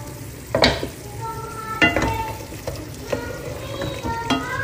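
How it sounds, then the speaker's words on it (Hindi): Chicken cooks in a handi pot, a low sizzle broken by several distinct scraping strokes of a spoon stirring against the pot, close and clear with no talking. "अब हम हांडी को देख लेते हैं। चिकन ऑलमोस्ट कुक हो गया"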